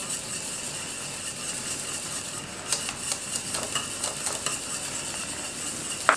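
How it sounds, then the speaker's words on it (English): A pot of maize meal pap being whisked vigorously, giving a steady scraping, clinking stir with a faint sizzle underneath; the strokes grow more distinct and rhythmic in the second half, close and moderately loud, with no talking. "Keep whisking vigorously."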